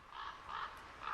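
Crows in the Siberian wild cawing while harassed by a falcon, three harsh caws in a row at moderate distance, alone with no talk.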